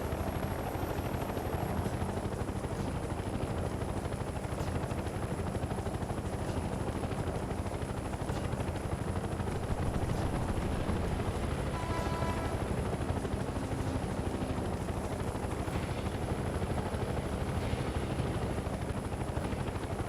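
Steady helicopter rotor thump and engine drone in Mercenaries 2, a continuous loud whirring that holds at close range with no voices.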